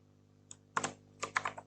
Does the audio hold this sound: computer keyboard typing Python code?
yes